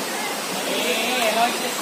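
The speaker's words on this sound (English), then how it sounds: "Now we are at the waterfall" Waterfall on a trek at Tungareshwar, a constant broad rushing roar of falling water, fairly loud and steady throughout with no other clear sounds.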